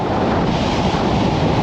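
Strong wind gusts at the sea shore roar steadily across the microphone, mixed with the wash of surf, loud and unbroken with no voices.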